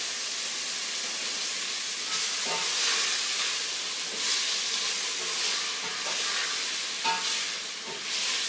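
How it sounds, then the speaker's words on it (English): Meat browns in a pot for homemade vegetable soup, a continuous close sizzle and hiss with small pops and stirring scrapes throughout. "So browning that meat adds some flavor to your soup."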